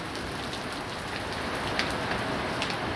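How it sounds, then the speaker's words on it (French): Heavy rain pours steadily during a violent thunderstorm with hail, a dense hiss of drops drumming on surfaces with a few slightly louder splashes, no voices. "c'est la première fois depuis l'année qu'il pleut aussi fort"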